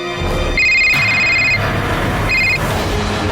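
An electronic phone ringtone sounds in two short bursts over a busy, noisy background, fairly close and clear.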